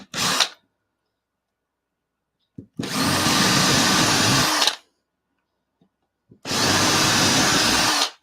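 A power drill boring holes for a model railway fence runs in three loud, close bursts: a brief one at the start, then two sustained whirring runs of about two seconds each, separated by silence and small clicks.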